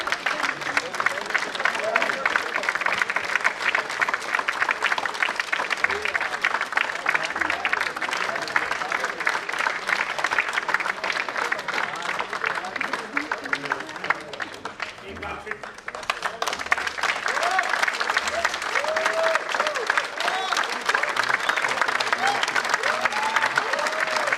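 A theatre audience at a stage play applauds with long, dense, sustained clapping, briefly dipping before surging again, loud and full with faint crowd murmur underneath.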